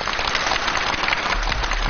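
A studio audience claps for a chef about to cook Dongpo pork on a Chinese TV show. The applause is a dense, steady patter that holds for the whole stretch with no voices over it.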